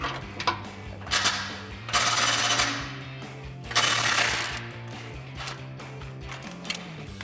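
Ratchet wrench with a 15mm deep socket loosening the exhaust muffler clamp on a Jeep Wrangler JL 3.6L: bursts of rapid metallic clicking, two longer runs among shorter ones, close and clear.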